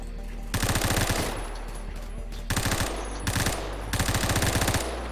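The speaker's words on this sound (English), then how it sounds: "Teammates seem to be shooting somebody behind me." Rapid automatic gunfire in the first-person shooter game Phantom Forces, four loud bursts of machine-gun fire separated by short pauses, close and sharp.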